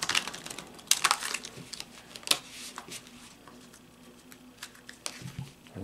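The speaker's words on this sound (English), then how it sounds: "the deck likes to be shuffled this way best" A tarot deck is shuffled by hand, crisp riffling card flicks in irregular bursts, close and fairly quiet, with brief pauses between clusters.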